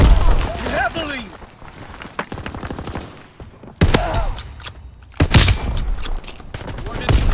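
Gunfire rattles through a WW2 shooter video game, with bursts of shots, sharp loud cracks and heavy impacts breaking up quieter stretches, and a voice heard briefly.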